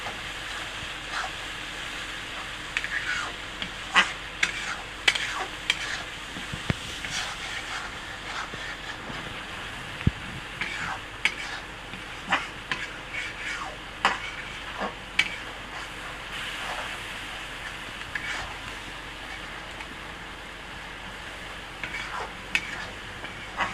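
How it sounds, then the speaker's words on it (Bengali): Spice paste for chicken curry being stir-fried in oil, a steady sizzle broken by frequent scraping and tapping strokes of a spatula in the pan, close and continuous. "মশলাটা কষাই দেবো একটু ভালো করে"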